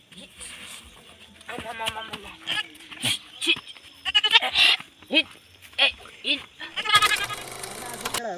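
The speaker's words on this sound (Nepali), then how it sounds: "कति दिन बाद बाख्रा लिएर आएको" A goat brought home bleats several times nearby, loud wavering cries scattered through the clip among people's speech and a burst of louder talk at the end.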